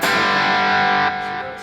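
Squier Jaguar electric guitar played on its neck pickup, ringing out a sustained strummed chord with a thick, effected, slightly distorted tone that holds steady, then drops a little and fades near the end.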